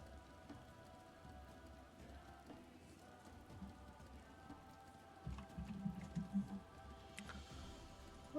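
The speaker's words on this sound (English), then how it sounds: "Oh god, it started raining as well." Rain falls in the video game Final Fantasy XIV as a soft, steady patter of drops on surfaces, fairly quiet, with a few louder splashy bursts toward the end.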